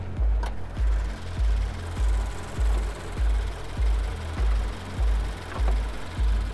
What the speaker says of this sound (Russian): оппозитный бензиновый двигатель Subaru